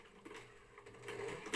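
A sewing machine runs in reverse while stitching flat plate rigging, giving a brief, quiet mechanical whir with faint rhythmic needle clatter that builds slightly toward the end.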